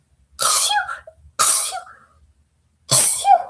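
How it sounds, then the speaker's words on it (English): A person sneezes three times in quick succession while recovering from flu, each burst sharp and close, separated by short pauses, with no talk around them. "I'm gonna sneeze."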